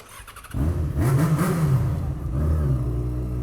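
A Supermoto motorcycle rides past and revs, a sharp engine roar starting abruptly after a quiet moment, rising and falling in pitch as it passes close by.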